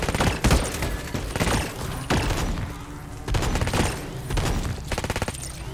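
Gunfire and a grenade in the video game Red Solstice 2: Survivors come as dense bursts of rapid shots in repeated volleys with heavy booms mixed in, loud and close throughout.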